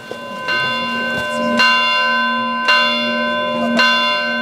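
Church bells in the village of Luz-Saint-Sauveur, in the Pays Toy of Bigorre, ring out in four strong, evenly spaced strikes, each leaving a long humming resonance, loud and clear with no voices.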